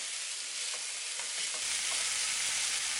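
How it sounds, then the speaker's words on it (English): Green onions, vegetables and spam sauté in a pan with a steady, close sizzle that grows slightly louder and denser partway through, and no one speaks. "I'm just going to keep sauteing it for about 5 minutes until the onions are completely translucent"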